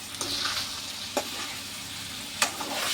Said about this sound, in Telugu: చక్కగా ఇలా తిప్పాలి